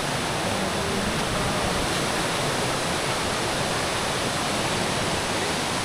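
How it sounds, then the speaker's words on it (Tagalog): Waterfall roaring as a steady, dense broadband rush of falling water, close and constant throughout with no break and no voices. "Wala, naririnig ko na yung falls."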